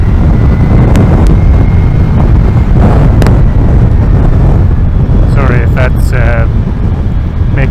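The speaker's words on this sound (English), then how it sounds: "It does sound pretty windy," Loud, continuous wind buffeting the microphone with deep rumbling gusts at the Rollright Stones, and a brief bit of muffled speech near the end.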